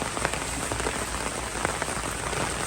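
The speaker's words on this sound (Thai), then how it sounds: "ฝนทั้งคืนเลยวันนี้" Steady rain falls through the night in rural Thailand, a dense, even patter of drops on surfaces, close and continuous with no voices.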